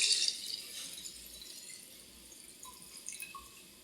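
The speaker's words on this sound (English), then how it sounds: "I'm using spring water to fill it to the top" Spring water trickles and splashes into a jar of organic vegetables and salt for beet kvass, a steady close pour with faint dripping that tapers off over a few seconds.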